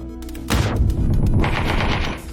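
Rapid bursts of AK rifle fire in a first-person shooter game, a loud sustained automatic volley that starts abruptly and rattles on for nearly two seconds with no talking.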